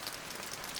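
Rain falls steadily in a Hindi children's story, a brief, even patter of drops on a surface with no other sounds.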